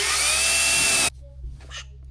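A power drill drives screws while mounting cab lights on a Squarebody Suburban, a loud close whine for about a second that cuts off abruptly, followed by faint handling noises.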